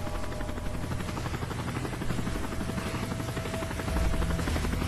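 Helicopter rotor blades thump in a rapid, steady rhythm in the video game Call of Duty: Modern Warfare 3, the engine roar growing louder near the end as it passes close by.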